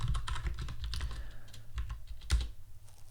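Rapid typing on a computer keyboard while writing Solidity smart contract code, a steady run of close clicks over a low constant hum, no talk.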